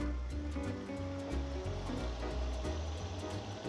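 A pot of water at a rolling boil, ready for redfish fillets, churns in a steady bubbling rumble that sounds close and continuous throughout, with no talking over it.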